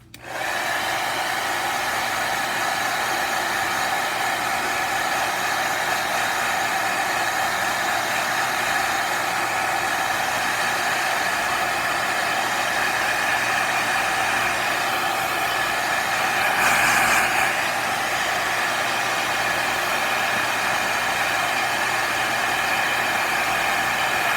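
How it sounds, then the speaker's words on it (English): A hair dryer blows steadily on a watercolor painting, a loud, continuous close whirring hum that holds unbroken for the whole stretch with no talking. "I'm going to hit it again with the dryer."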